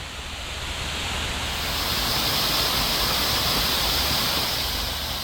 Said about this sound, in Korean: 도로 한복판에 이런 멋있는 폭포가 있다니 참 신기하네요.